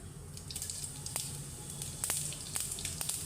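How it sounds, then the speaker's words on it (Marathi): Cumin seeds crackle in hot oil with mustard seeds for a tempering, a soft hiss dotted with quick sharp pops and spits, fairly quiet and close, with no voices. "थोडंसं जिरं टाकते"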